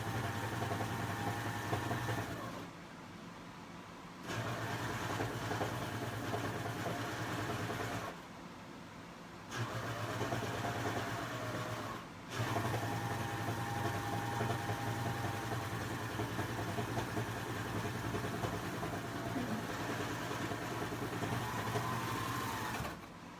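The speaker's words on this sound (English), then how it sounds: "So I'm just going to sew." A sewing machine stitching the seams of a pair of shorts runs in a steady close whir, in several long bursts broken by short pauses.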